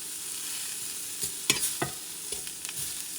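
Mushrooms and onions fry in a pan with a steady hiss, broken by a few sharp stirring scrapes and clicks near the middle, close and fairly quiet with no voices.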